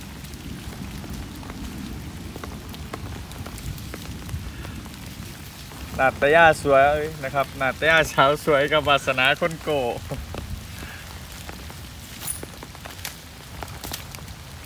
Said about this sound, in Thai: ฝนตกแล้วครับพัทยาฝนตกแล้วครับชื่นฉ่ำเย็นสบายนะครับ